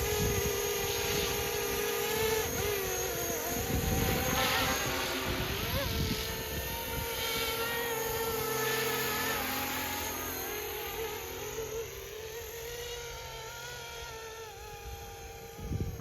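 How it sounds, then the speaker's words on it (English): A FlishRC AS350 450-class ready-to-fly RC helicopter hovers and flies, its rotor drone steady with a high whine from the tail motor rising and falling, close and loud throughout, while a person talks over it. "This has a tail motor and kind of whines sometimes. You can hear it there."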